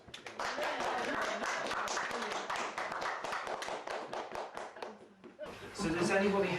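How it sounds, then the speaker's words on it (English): Audience clapping for participants after a past life regression demonstration at The Old Bell pub in Gloucester, a small room of steady, dense applause lasting several seconds, then fading out before a burst of louder noise. "let's give everybody a nice round of applause"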